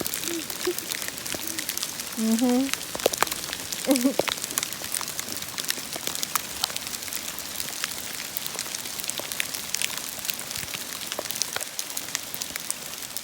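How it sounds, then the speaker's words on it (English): Dense pelting of hail spatters steadily on a surface, with a brief voice murmuring early on. "Ooh, look at this hail."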